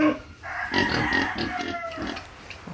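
Pigs grunting on a Filipino pig farm, a continuous run of close, fairly loud grunts and snorts packed together for a few seconds, with no talk over them.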